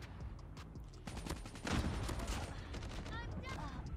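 Rapid automatic rifle fire from a KN-44 in Call of Duty Mobile crackles in dense bursts through the whole stretch, swelling louder midway, with game effects layered in.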